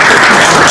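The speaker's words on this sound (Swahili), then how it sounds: "Tumsindikishe na makofi yanapoketi." Audience at a law courts stakeholder forum on the small claims court applauding, a dense, steady wash of clapping filling the short moment without pause.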